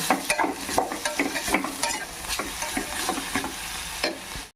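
Ridge gourd chutney cooking in a pan, stirred with steady repeated scrapes over a continuous sizzle, close and moderately loud, no voices.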